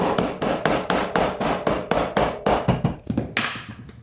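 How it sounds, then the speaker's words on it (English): A rubber mallet strikes a coilover on a BMW E36 suspension again and again, a steady run of about a dozen sharp close-up knocks at an even rhythm that slows and fades toward the end. "a rubber mallet would help too"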